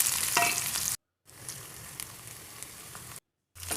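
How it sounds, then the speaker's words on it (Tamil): Onion, chili and curry leaves sautéing in hot oil with popped mustard seeds, a steady close sizzle with occasional stirring scrapes, briefly cut to silence twice, no talking. "அது கூட வெங்காயம் மிளகாய் கருவேப்பிலை இதெல்லாம் ஆட் பண்ணி நல்லா வதக்கி விட்டுக்கலாம்"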